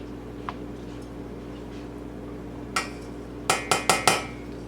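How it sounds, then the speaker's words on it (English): A low carb party mix is stirred in a pan: a faint hum with a single clink, then a quick burst of four sharp metallic scrapes and knocks near the end, with no talking. "I am going to thoroughly mix this around and incorporate everything"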